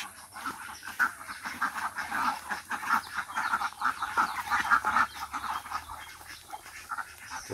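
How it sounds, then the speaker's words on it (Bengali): A flock of ducks quacks in rural Bangladesh in the early morning, a busy overlapping chorus of honking calls that rises and falls continuously at moderate distance. "এক পাল হাঁস"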